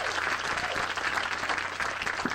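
An audience claps in a steady, dense round of applause that stays even and fairly close.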